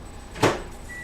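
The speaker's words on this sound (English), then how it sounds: "place it into the microwave for 1 minute intervals" A microwave oven being used to melt almond bark chocolate gives one short, muffled clunk against a quiet background hum.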